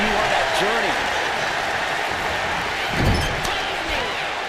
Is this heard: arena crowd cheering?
yes